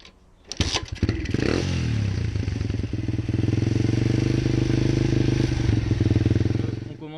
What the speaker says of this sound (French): Le préchauffage, on va démarrer un petit 5 minutes histoire que l'huile soit bien fluide.